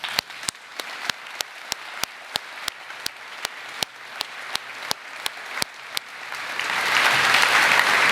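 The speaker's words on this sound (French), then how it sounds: "J'aimerais juste qu'on prenne un moment pour les applaudir ensemble." Slow, rhythmic clapping starts sharply, then blends into a fuller wash of audience applause that swells toward the end.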